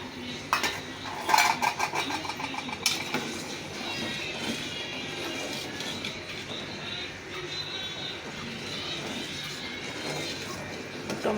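A spatula scrapes and taps against a pan as a fried egg is cut into four pieces for an egg dal, several sharp metallic clinks near the start, then quieter kitchen sizzling and faint background noise.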